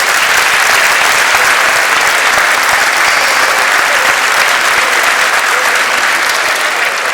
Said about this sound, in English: Next clap for him.